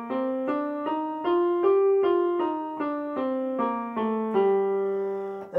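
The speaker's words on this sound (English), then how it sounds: "This is the concert G natural minor scale." A concert G natural minor scale plays as a run of evenly spaced sustained notes, about a dozen in steady rhythm, rising and then coming back down, clear and moderately loud with no talking over it.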